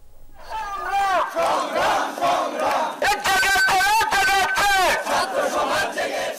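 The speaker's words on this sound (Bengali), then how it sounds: "এসব সিদ্ধান্তই প্রত্যাখ্যান করে আজ বিক্ষোভ করেন শিক্ষার্থীরা।" Crowd of protesting university students chanting slogans together in loud, rhythmic bursts, shouting voices rising and falling close by.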